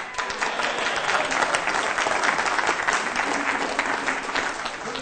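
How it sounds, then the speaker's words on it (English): A seminar audience breaks into steady, dense applause, many hands clapping together at close range for several seconds with no talking over it. "How about a round of applause for the charging order?"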